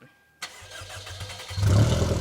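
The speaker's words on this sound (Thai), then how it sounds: "อ่าลองสตาร์ทนะ" A Toyota MR-S sports car fires up by push button: after a brief quiet, a quick starter crank catches into a loud mid-pitched engine that swells into a steady close idle.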